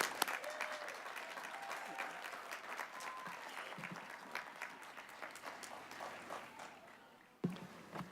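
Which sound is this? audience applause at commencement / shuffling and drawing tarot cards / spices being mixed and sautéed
audience applause at commencement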